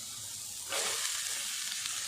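A sudden loud sizzle as chopped cabbage hits a hot frying pan, settling into a steady crackling hiss.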